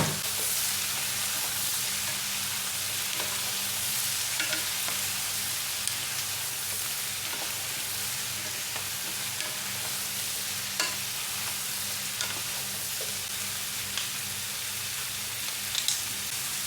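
Chicken hearts fry in a pan with bottle gourd added, a steady dense sizzle running throughout with occasional soft clicks and scrapes of stirring, close and even with no voices.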